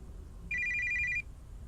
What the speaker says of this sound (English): Cell phone notification went off at that moment.